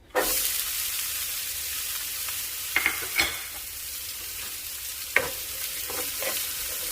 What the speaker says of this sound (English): I'm going to add 1 large onion that I diced